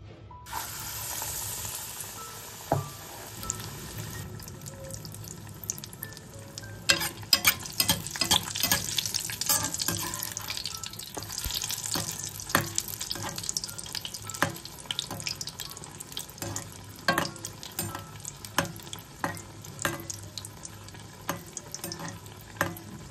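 Batter-coated fish fries in hot oil in a kadai, giving a steady sizzle broken by sharp clicks and clatter from stirring and turning, near and loud for the whole stretch with no talk.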